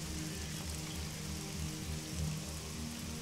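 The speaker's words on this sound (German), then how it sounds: "Es regnet, ohne dass es eigentlich regnen sollte." Steady rain falls in the open-world game Elex, a constant dense patter on surfaces that holds at an even, fairly quiet level throughout with no voices.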